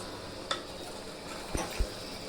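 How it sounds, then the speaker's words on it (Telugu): Chicken curry being stirred in a pan, a soft continuous simmer broken by a few scraping knocks of the spoon against the pot. "కర్రీ కలిపుతుంది"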